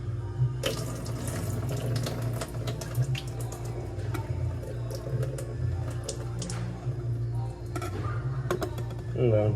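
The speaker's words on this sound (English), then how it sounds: "You can drain the water." Water drains from a can into a kitchen sink, a steady splashing trickle with clinks and small knocks throughout, close by, as someone talks over it.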